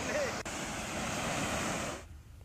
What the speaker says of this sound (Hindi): रपटा के ऊपर से पानी बह रहा है